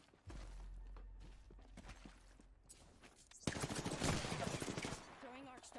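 Automatic weapons fire erupts in a dense, loud burst of rapid shots during an Apex Legends match, preceded by scattered single pops and clatter, with brief talk in the mix.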